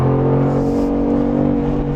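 A Mercedes-AMG G63 with 585 horsepower pulling away in sport mode, its engine giving a steady, strong droning hum with a low growl, close and continuous with no talking.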